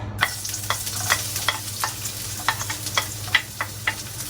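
Pork and carrots sautéing in a wok, with repeated sharp scraping stir strokes at an irregular rhythm over a steady low sizzle and hum, close and fairly loud, no talk.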